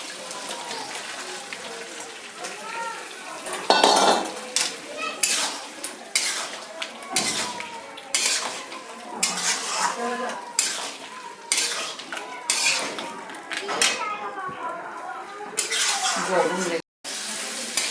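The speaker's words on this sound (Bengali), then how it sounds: "এবার আমি মাছগুলো দিয়ে দিচ্ছি" Prawns being sautéed for prawn malai curry sizzle in a pan, with repeated clanks and scrapes of a metal spatula stirring against the pan in an irregular rhythm, close and loud.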